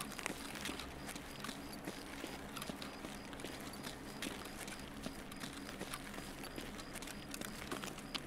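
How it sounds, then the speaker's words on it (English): Rapid footsteps in a video game, a dense pattering run of steps that stays steady and fairly quiet beneath a constant background ambience. "Better hear footsteps ahead of us."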